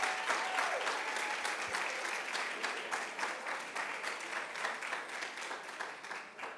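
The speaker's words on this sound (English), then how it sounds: "Please give yourselves a real round of applause" Sustained applause from a large crowd at a business awards event, dense steady clapping filling the whole stretch without letting up.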